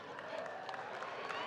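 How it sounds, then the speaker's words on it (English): Graduate students at a university winter commencement receive applause from the crowd, a steady and moderately distant wash of clapping that runs through the whole moment with a faint murmur of voices. "Let's give our graduate students a round of applause, please."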